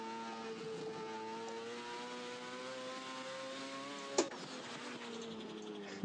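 A race car in an Assetto Corsa mod holds a steady high-pitched engine whine with layered harmonics, shifting slightly in pitch, then a brief sharp click or shift, played alone and fairly quiet.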